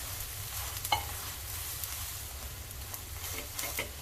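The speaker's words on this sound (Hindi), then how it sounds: "अब इसे भी इसी तरह से तेल लगाकर इसे भी पका लेते हैं हम" Jowar flour roti cooks with oil on a hot griddle, giving off a steady, fine sizzle with faint crackles throughout and no talking.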